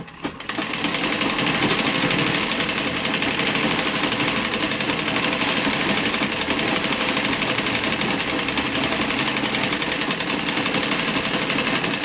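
A sewing machine stitches tricoline cotton fabric scraps for a small table or stove cloth, running loud and steady with a fast, continuous mechanical whir close by from start to finish, no voices.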